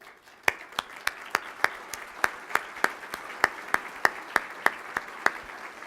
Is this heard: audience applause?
yes